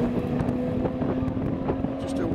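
BMW 840 burning out its tyres on a 100-shot of nitrous: a loud, steady engine drone with a strong tonal hum and wind buffeting the microphone throughout, no clear tyre squeal standing out.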